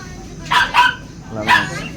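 A small puppy at a horse fair gives three short, high yipping barks, two close together and one after a pause, sounding near and clear.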